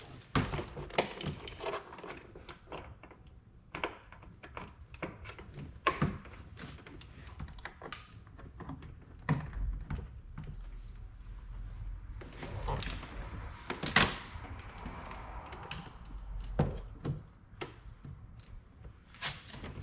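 A door panel on a 2015 Chevrolet Cruze being fitted back on after a window regulator replacement gives scattered plastic clicks, taps and thunks at close range, irregular and fairly quiet throughout.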